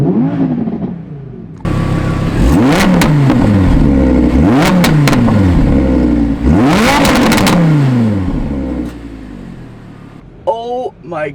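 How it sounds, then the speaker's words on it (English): A 2020 Audi R8 supercar engine revs hard several times in quick succession, each loud rising roar falling away again. A short quieter idle stretch comes near the end. "Revving the 2020 Audi R8."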